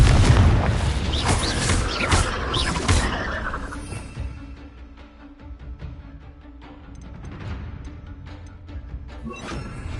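A booming blast from the Confringo spell in Hogwarts Legacy, a loud burst with crackling debris at the start that fades into quieter rumbling and scattered battle noises.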